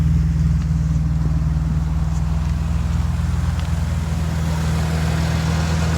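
A 1991 Mercedes 190E idles through twin MagnaFlow glass packs into a rear Borla muffler, giving a deep steady burble with a strong even hum, close and unbroken throughout.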